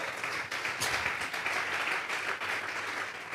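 A church congregation applauds together in a sustained, dense wash of clapping that holds steady at a fairly loud level, with no speech over it.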